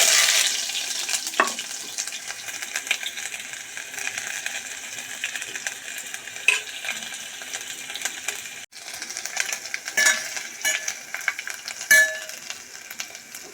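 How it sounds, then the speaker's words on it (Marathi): Mustard seeds and cumin spluttering in hot oil in a pan: a loud, close, continuous sizzle with scattered sharp pops and crackles throughout. "बघा राई आणि जिरे तडकायला लागले"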